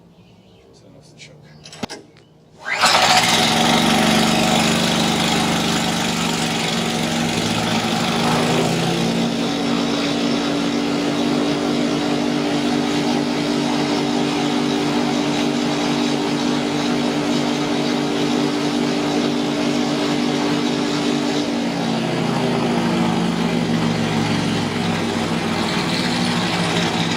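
A YardBeast 3514 wood chipper's small engine is pull-started after a couple of brief rattles, then runs loud and steady at close range with a constant droning hum, its pitch shifting slightly partway through.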